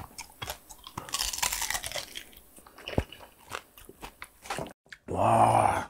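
Crisp crunching and chewing of oily fried pork close to the mic, coming in irregular bites over about five seconds, with a louder burst of noise at the end.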